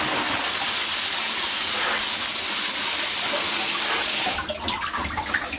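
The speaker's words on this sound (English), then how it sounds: "let me turn the water on, is you're going to want to rinse down the entire machine," A steady, loud hiss of fresh water spraying under pressure to rinse down a wet blasting machine, continuous for several seconds before it cuts off, leaving a few faint splashes.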